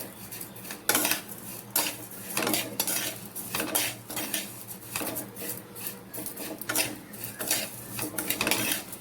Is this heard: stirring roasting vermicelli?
yes